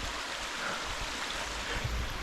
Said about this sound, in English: this is the Long Pool Waterfalls